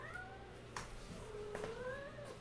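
A pet cat meows softly and nearby, giving a long plaintive meow, then after a brief clatter a second rising drawn-out call, all fairly quiet over a low background hum.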